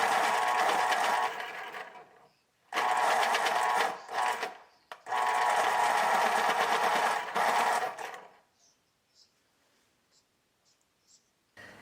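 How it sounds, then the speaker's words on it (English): A pencil sharpener grinds small pieces of holly wood in several loud, buzzing bursts of a few seconds each, separated by short gaps and followed by light handling noises. "Then I sharpened some pieces of holly in the pencil sharpener."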